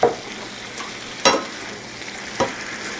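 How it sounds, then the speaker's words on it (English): A shrimp, bell pepper, mushroom and green onion stir fry sizzles steadily in a pan while a utensil scrapes and tosses it in three quick strokes, close up, with no voices. "Give it a quick mix and turn off the stove."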